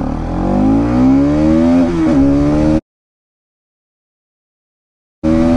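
A 200cc motorcycle engine revs hard as it accelerates from standstill toward 60, its pitch climbing steadily and loud up close, then cutting to silence before the engine note returns.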